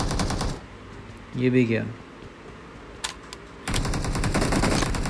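Automatic gunfire in the mobile battle royale game PUBG, with bursts at the start and end and a single shot in between, while someone speaks briefly over the game audio.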